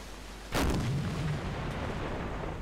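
A submarine deck gun fires once in the naval game Silent Hunter IV, a single loud, close blast that rolls off into a long rumbling tail, with no voices.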